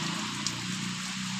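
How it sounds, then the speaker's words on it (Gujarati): Steady rain pours down in a village during a monsoon shower, a continuous even wash of falling water with a low hum underneath, no voices. "તો મિત્રો વરસાદ ચાલુ જ છે આમ જોવો"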